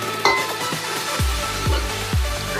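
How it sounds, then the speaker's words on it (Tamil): Crushed turkey berries sautéing with onions and garlic in a hot pan, a steady sizzle broken by repeated scraping stirs of a spoon at a loose, even rhythm, close and moderately loud with no talk. "இதை போட்டு நல்லா வதக்கிக்கோ."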